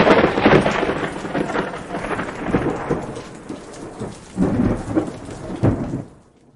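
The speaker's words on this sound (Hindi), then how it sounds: "एक बड़ा तूफान आ रहा था।" Thunderstorm with rain approaching over the sea: steady heavy rainfall with repeated rolling thunder rumbles, loud and close, swelling in bursts before fading out at the end.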